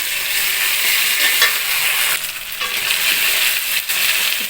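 Onions fry in a pan with ginger-garlic paste, a loud continuous sizzle close by, broken by scraping stirs of a utensil and brief dips as the pan is moved; no one speaks.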